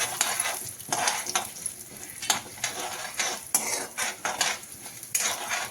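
Urad and chana dal fry in oil in a pan, a light sizzle under frequent sharp clinks and scrapes of a metal spoon stirring against the pan, close and uneven in rhythm, with no voices.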